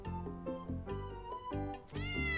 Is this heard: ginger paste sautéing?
no